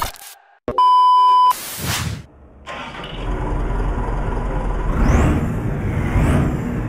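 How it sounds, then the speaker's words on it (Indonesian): Tow truck engine starting: a sharp electronic beep, a brief whirring crank, then the engine catches and settles into a steady low idle, close and fairly loud. "langsung aja kita hidupkan mesinnya"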